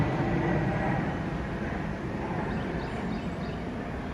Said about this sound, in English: I have a jet coming across overhead